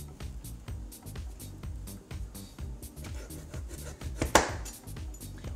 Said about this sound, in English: So we're gonna go ahead and cut our French fries.